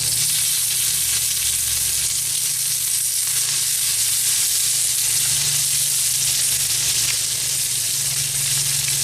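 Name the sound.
bacon frying on a hot cooking stone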